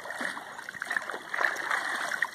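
Rosie swimming and paddling, close and continuous splashing with trickling, gurgling water across the whole stretch, no voices.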